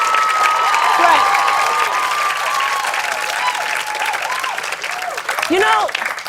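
Studio audience applause fills the room steadily throughout, dense clapping with a few cheers and a voice speaking over it during a live talk-show taping.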